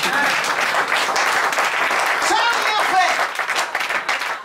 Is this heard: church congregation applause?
yes